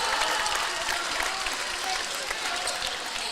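A crowd applauds steadily at a high school boys' basketball game between Rushville and Greensburg, a broad continuous clatter of clapping that fills the gym.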